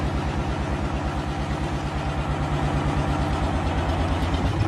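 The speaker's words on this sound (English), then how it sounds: "Can you turn the engine off, mate?" A vehicle engine idles close by, a steady low throbbing rumble with an even pulsing rhythm that holds unchanged throughout, with no talk over it.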